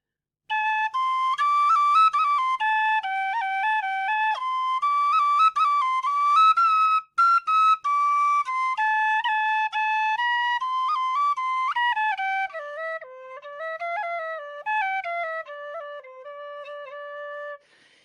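An iVolga wooden whistle plays a continuous, flowing tune of sustained notes that move up and down, with a brief pause partway through, played close and alone without talking.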